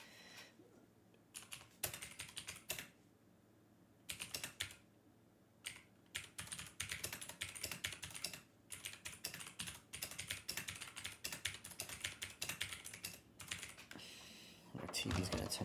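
Loud, close typing on a computer keyboard, with rapid bursts of keystrokes separated by short pauses and a few louder clacks, running steadily through most of the stretch.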